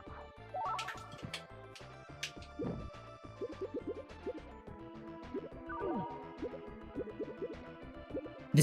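Water drips in The Lost Vikings 2, with a few scattered plinking drops over steady, busy background music from the game.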